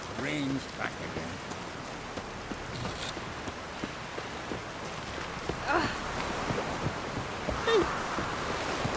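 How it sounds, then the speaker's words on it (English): Steady rain falls in The Witcher 3 game as an even, continuous hiss and patter through the whole stretch, with a few brief louder spots over the wash. "Rain's back again."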